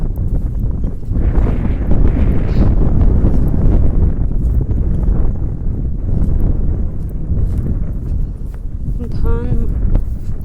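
Strong wind buffets a phone microphone outdoors on a rooftop near farm fields, a continuous loud low rumble that persists throughout the clip.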